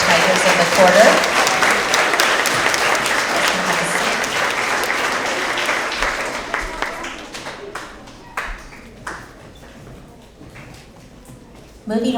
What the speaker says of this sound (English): Let's have another round of applause for all of our 4th and 5th grade Tigers of the quarter.